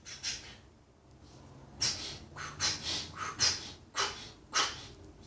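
Several short, sharp breaths taken between voiced glottal attacks in a lesson on circular breathing and drone playing, each a brief airy burst, close and fairly loud in an uneven series.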